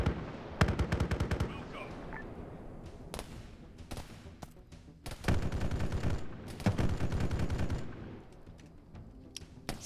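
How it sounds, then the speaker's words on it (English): Bursts of automatic gunfire and scattered shots rattle at a distance in a military shooter game, coming in several volleys separated by quieter stretches, with a brief spoken word in between. "Hear some distant shooting."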